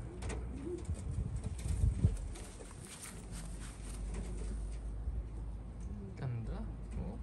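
Domestic pigeons coo in soft repeated rounds from a loft, close and fairly quiet, with shuffling and low background noise.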